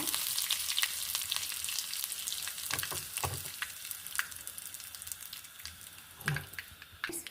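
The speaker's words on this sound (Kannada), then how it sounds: "ಸಾಸಿವೆ ಹಾಕುವಾಗ ಬೇವನೆಲ್ಲ ಹಾಕೊಂಬ" Mustard seeds crackle and sizzle in hot coconut oil as a tempering for hog plum chutney, a steady busy frying hiss with sharper pops and occasional stirring clinks, close and fairly loud with no talk.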